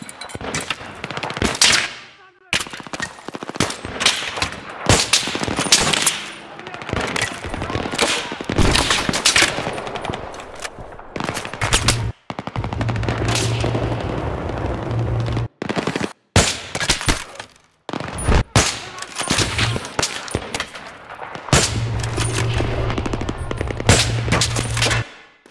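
Sustained machine gun fire in Battlefield 3 during a night sniper mission, long loud bursts of rapid automatic shots broken by brief pauses, close and dominant, with some speech in the mix.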